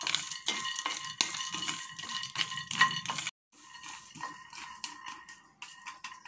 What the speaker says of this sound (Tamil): வேர்க்கடலை முதல்ல போட்டுடணும். அதை நம்ம நல்லா வறுத்துப்போம்.